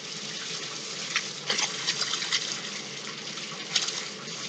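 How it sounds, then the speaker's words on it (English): A bathtub faucet fills a bucket with water, producing a steady, moderately quiet rushing splash with small bubbling surges. "And then I'm going to fill up the bucket."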